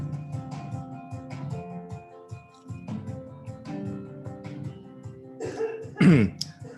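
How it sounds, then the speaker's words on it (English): Humming, murmuring background sounds give way near the end to a single sharp, loud cough close by. "You can see that this is a cough sound"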